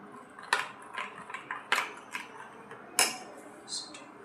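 A spoon stirring mango puree into custard milk taps and clinks lightly against the side of a pot or bowl in soft, irregular strokes, fairly close and quiet, with a voice talking over it.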